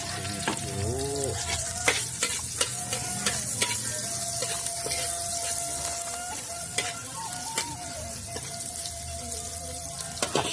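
Onions fry in hot oil over a wood-fired clay stove, a continuous sizzle broken by sharp clacks and scrapes of a utensil stirring against the pan, close and fairly loud.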